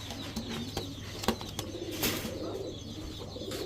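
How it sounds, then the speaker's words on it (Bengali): A female racer pigeon coos close by, with a few sharp clicks and a brief flutter of wings over a low steady hum. "একেবারে সুন্দর একটা মাদি কবুতর"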